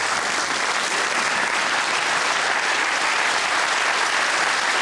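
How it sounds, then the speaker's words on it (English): A television studio audience claps loudly and continuously, a dense even wall of applause for the Telly Addicts quiz show with Blue Peter presenters present. "here's some applause they made earlier"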